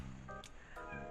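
Onyx the cat meows twice in quick succession, short and fairly close, over a steady hum of room noise.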